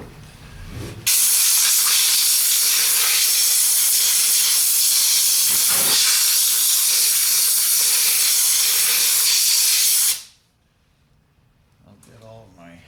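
A loud, steady hiss of compressed air blasts dust off the brake shoes of a 1960 Ford F100 for about nine seconds, then cuts off abruptly, leaving quiet shop noise.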